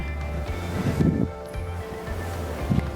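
Strong wind buffets the microphone over sea waves on the coast at Ban Krut, Prachuap Khiri Khan, Thailand, a steady roaring rush with louder gusts swelling through it.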